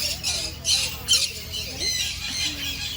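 Parrots at a bird park give repeated harsh squawks over noisy outdoor background hiss, with a few sharp calls standing out.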